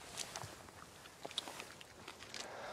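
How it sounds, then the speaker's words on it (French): Raw clam with a little sand being chewed close up, a soft run of moist crunches and gritty clicks at a quiet level with no talk. "Je t'avouerai que c'est la première fois que je vais manger une palourde crue."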